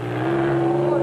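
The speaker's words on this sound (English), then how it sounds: "The deep sound of Shamir Variawa and VZ Benzale's BMW V8-powered Porsche rumbles across the Maluti foothills" Deep, steady rumble of a BMW V8-powered Porsche race car in Class S at the Lesotho Sun 400 rally in the Maluti foothills, 2005, a continuous low drone held at constant volume throughout.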